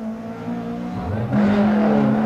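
A BMW rally car engine on a Galway rally stage revs hard and close, its tone climbing and then surging louder partway through, as in the 1990 Galway International Rally.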